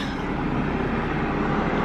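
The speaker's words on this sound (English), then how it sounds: "Hear a train off in the distance." A train rumbles steadily far off, a broad low continuous roar heard alone without any voices.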